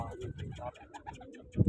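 Soft, low pigeon coos repeat in short bursts, close by, with a louder coo near the end and some voices mixed in.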